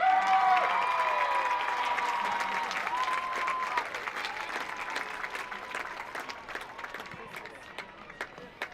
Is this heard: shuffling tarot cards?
no